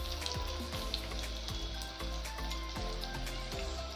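Onions with crushed garlic fry in a pan, giving a dense, continuous sizzle with scattered pops and crackles, close and steady, with no voices.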